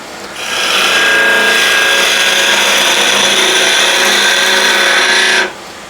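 A wood lathe spinning at about 1700 to 1750 RPM, with a turning tool riding the bevel against the spinning wood, rises into a steady, bright, whirring scrape for about five seconds, then stops abruptly.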